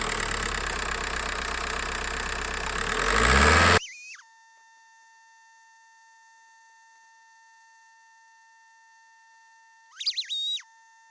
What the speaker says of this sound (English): turn the engine over, let it run, rev it a bit and see what happens